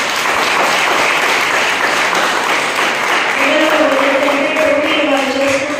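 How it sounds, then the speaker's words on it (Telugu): A church congregation at a Holy Communion service bursts into sustained applause, dense and loud throughout, with a sustained musical or vocal tone rising beneath the clapping in its latter half. "వీళ్ళకి ఒకసారి చప్పట్లు పడడం."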